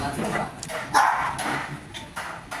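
Dogs bark and yip several times at a hillside resort in Antipolo, Rizal, the bursts irregular and mid-distance, mixed in with people talking nearby.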